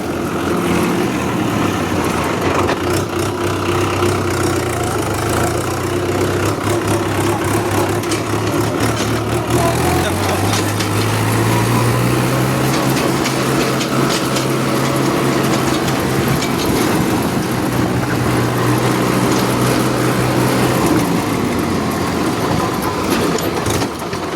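A tractor engine runs continuously on a farm during wood-hauling work, a loud, steady diesel rumble with a low throbbing drone that shifts pitch slightly midway, close and unbroken throughout.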